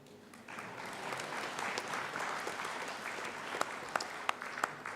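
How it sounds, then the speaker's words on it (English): Applause at the Botswana–South Africa business roundtable forum, a broad wash of clapping from an audience that holds steady, with a few sharp louder claps standing out near the end. "Yeah, this is where you applaud."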